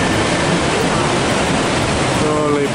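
A large volume of rushing water, seen from a train window, gives a loud, steady broadband roar that fills the whole span without pause.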